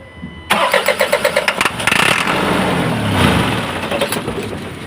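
An Isuzu 4HL1 diesel engine with a hard-starting problem cranks in a rapid, loud rhythmic chug for about a second, then catches and settles into a rough, close idle.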